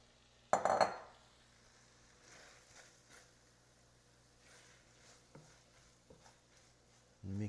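Shredded beef for Venezuelan pabellón criollo is stirred in a pan, opening with a sharp metallic clatter of utensil on pan followed by quieter scattered scrapes and taps, alone without talk.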